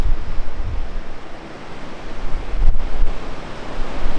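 Sea waves washing onto the Lanzarote shore, a steady broadband rush with gentle surges, heavy wind buffeting the microphone throughout.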